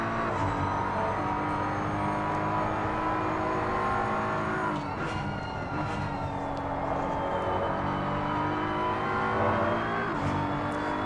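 A BMW race car engine in a racing sim game climbs steadily in pitch through each gear, with early upshifts that drop the revs at regular intervals, loud and continuous with no speech.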